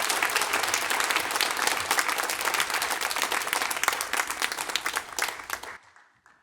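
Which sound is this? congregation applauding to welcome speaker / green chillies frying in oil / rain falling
congregation applauding to welcome speaker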